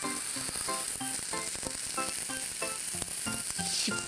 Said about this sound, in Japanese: 両面にしっかり焼き色がつくまで焼いてください